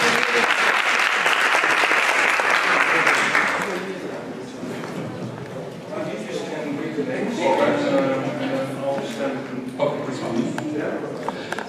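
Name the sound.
audience applause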